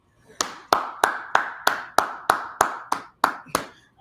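A single pair of hands claps about eleven times in a steady, even rhythm. Each sharp, close clap stands out alone against quiet.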